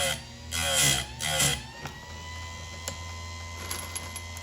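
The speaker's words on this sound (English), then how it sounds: "You'll be surprised at how fast you can sharpen an entire chain." An Oregon 310-120 mini bench grinder sharpens a saw chain in two short, loud grinding bursts, each followed by a lingering motor hum and faint clicks.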